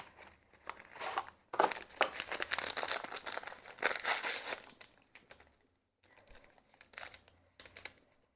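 A bag of pectin is torn open and tipped into a batch of no-sugar strawberry habanero jam, producing close, bursty crinkling and rustling of the packet over several seconds, with a short pause before a few quieter crinkles.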